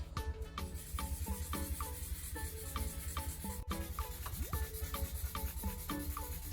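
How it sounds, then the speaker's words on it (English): Hand sanding of a repaired broken plastic surface, a rhythmic scratchy rubbing in quick back-and-forth strokes, close and steady with no talking. "Sand one section at a time and check the surface by hand so you don't go too deep."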